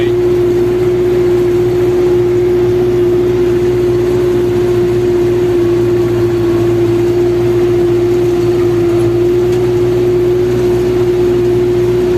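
An MTZ 892.2 tractor pulls a Lemken plough through a field, its engine a loud, constant droning hum that holds steady without changing pace.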